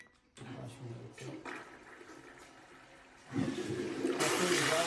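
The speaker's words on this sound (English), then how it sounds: "after you finish using the toilet, you can flush it by remote" Remote-controlled toilet in a remodeled San Francisco bathroom flushing, quiet at first and then a sudden louder rush of water that swells and continues to the end.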